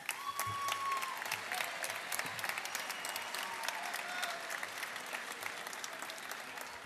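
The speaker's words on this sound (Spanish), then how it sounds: "Fuerte el aplauso también" An audience at a sports games opening ceremony gives sustained applause, a dense, steady mass of clapping that holds evenly across the whole stretch.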